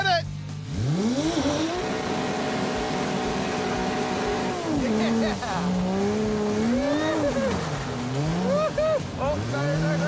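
A Dodge Charger oversteering on pavement: a long wavering tire squeal that rises and bends in pitch over a loud engine roar, with people talking over it.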